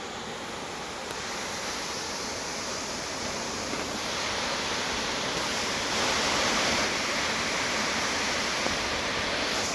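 Water of the Anju Veedu waterfalls rushing and roaring steadily, a dense continuous wash with no pauses, fairly loud and close.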